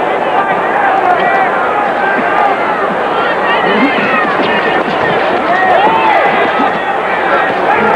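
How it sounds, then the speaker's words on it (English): Boxing arena crowd at the Larry Holmes versus Tex Cobb fight roaring in a sustained, dense wall of voices with whistles and shouts rising and falling throughout, loud and close with no break. "The crowd roars."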